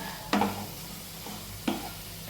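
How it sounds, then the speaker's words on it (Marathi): Paneer being stirred in a pan for a simple home-style curry, with two sharp scraping strokes of a spoon over a faint, steady sizzle. "पनीर टाकून द्यायचा। त्याला पण चांगलं मस्तपैकी असं हलवून"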